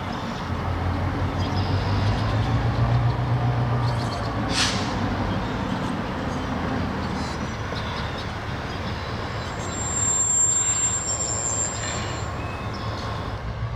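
A freight locomotive, the NX-10, rumbles steadily out of a siding onto the main line with a deep engine drone, wheel noise and a brief high squeal, fairly loud and continuous.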